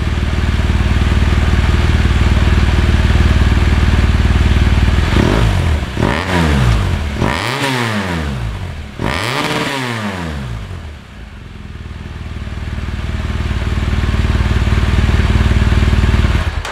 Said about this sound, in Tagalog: Rev natin mga sir para marinig nyo yung Boxer engine.